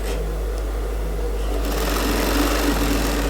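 A sewing machine runs steadily, stitching fabric for a women's suit with a continuous loud mechanical whir and a deep motor hum, picking up slightly in intensity partway through, with no voices.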